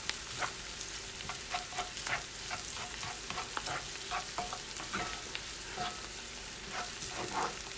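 Onions for a frittata frying in a pan, a continuous close sizzle with frequent soft scraping stirs and small ticks of a utensil throughout, steady in loudness, with no talking.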